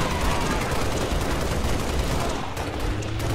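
Dense, continuous gunfire from the Halo Reach video game, a steady rattle of rapid shots filling the whole stretch at a loud, constant level with no voices over it.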